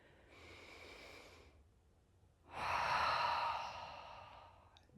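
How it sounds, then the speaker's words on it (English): Two close, airy breaths during a breathing exercise: a softer inhale followed by a pause, then a louder, fuller sighing exhale. "we're just going to breathe in and exhale out with 10 times"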